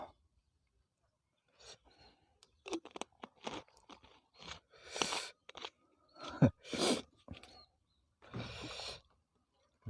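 Crunchy bites and chewing of sour fruit dipped in chili fish sauce, a string of close, sharp crunch bursts in an irregular rhythm with short quiet gaps.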